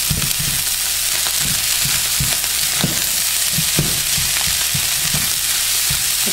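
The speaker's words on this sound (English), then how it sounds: "Stir everything up. And I'm also trying to break up the eggs a little bit as well." Fried rice with eggs and butter sizzles loudly in a pan while a spatula stirs and breaks it up, adding repeated scrapes and knocks over the continuous close hiss; no speech.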